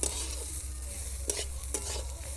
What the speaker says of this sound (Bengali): চালটা এবার হালকা আঁচে লাল করে ভেজে নিতে হবে।